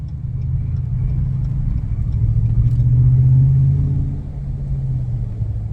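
A 2021 Ram 1500 fitted with a Borla S-Type cat-back exhaust gives a low, steady rumble that swells briefly as the truck takes a little throttle around a corner, then settles back.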